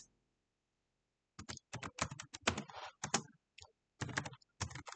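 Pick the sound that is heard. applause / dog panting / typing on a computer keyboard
typing on a computer keyboard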